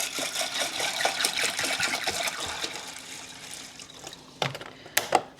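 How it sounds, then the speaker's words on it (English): Water pours into a pot of dried beans, a continuous splashing rush that gradually thins out, ending with a few separate louder splashes and clinks. "We're gonna do a cup of these beans in a pot, cover them with 2 inches of water."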